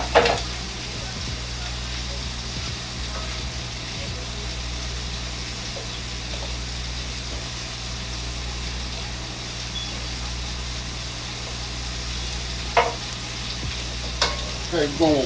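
Cauliflower going into a hot pan gives a steady, loud sizzle and frying hiss throughout, with a few scrapes of stirring near the start and the end, and no talk.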